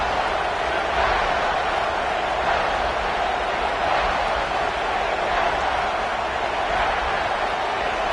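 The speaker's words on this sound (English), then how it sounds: "Third down and the crowd really getting into it." Steady, dense roar of a college football stadium crowd cheering during a third-down play, a broad continuous wash of voices with no breaks, loud and sustained throughout.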